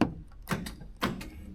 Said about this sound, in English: door locks work